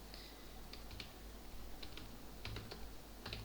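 Typing on a computer keyboard while entering HTML code into Notepad: quiet, irregular key clicks in small clusters over a steady low background hum, with no voices.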